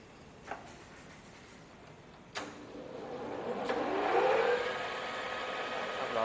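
An Okuma CT lathe spins up to speed 160, its motor hum rising into a steady whirring drone after a few faint knocks, close and moderately quiet.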